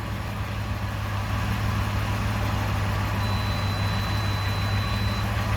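A 2008 Ford Crown Victoria engine idles steadily at close range, a low constant hum with no breaks, freshly started during transmission work.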